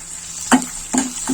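Onion and green chili frying in a pan, a light sizzle broken by three sharp metallic clanks of a spatula against the pan, close and clear, with no talking.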